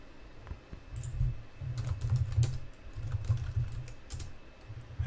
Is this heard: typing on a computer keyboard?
yes